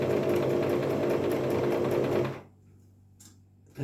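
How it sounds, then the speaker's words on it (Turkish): A Singer Promise 1412 sewing machine runs a zigzag stitch, a fast, even mechanical whir for about two seconds, close and loud, then stops with only faint clicks after. "Zikzak atarak dikiş dikiyorum."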